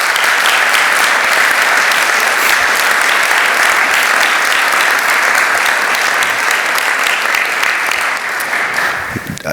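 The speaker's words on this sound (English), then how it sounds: "Can we give Kevin a round of applause?" A large crowd at a spring convocation ceremony applauds loudly and continuously for nearly ten seconds, a thick wash of clapping that tapers slightly toward the end.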